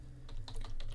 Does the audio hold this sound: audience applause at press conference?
no